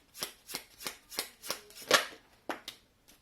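Tarot cards being shuffled and handled close up, a quick series of about ten crisp riffling bursts in an uneven rhythm, with no talking.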